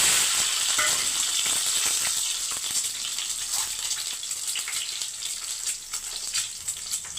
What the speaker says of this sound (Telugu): ఆయిల్ కాగిందండి ఇప్పుడు ఎగ్స్ ఫ్రై చేసుకుందాం